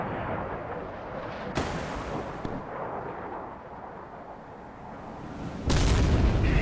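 Missile strikes exploding against warships in the naval combat game Sea Power, two loud sudden blasts with rumbling battle noise between them, the last impact heavy and sustained, no voices.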